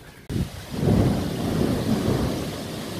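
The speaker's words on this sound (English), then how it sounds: "Just like that, it's starting to rain again." Rain falling with a loud rumble of thunder outdoors at a tiger enclosure, the deep roll starting abruptly and sustained over steady rainfall.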